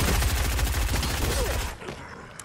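Rapid automatic gunfire from a video game, a loud steady stream of shots cutting off abruptly near the end into a faint tail.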